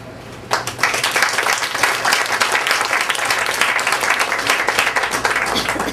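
An audience applauds to welcome a speaker at a children's summit on guardian ad litem roles, steady clapping starting after a brief quiet moment and continuing evenly throughout.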